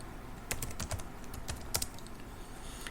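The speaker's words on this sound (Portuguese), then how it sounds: "Eu gosto de digitar" Fast typing on a computer keyboard while installing Ceph, soft close clicks in quick irregular runs over a faint steady room hiss, no speech.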